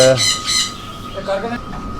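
African grey parrots give loud harsh squawks near the start, followed by softer chirps and calls close by.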